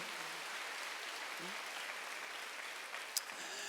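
Faint, steady applause from a distant church congregation carries on throughout, a soft continuous patter with one brief sharp tap near the end.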